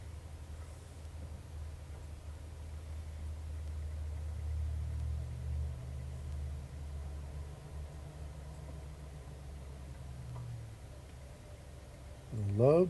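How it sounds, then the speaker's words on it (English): Early-1960s tractor rumbles at a steady idle and pulls away, its engine note swelling mid-clip with gears and exhaust audible, then a rising whine near the end. "Lovely sounding tractor."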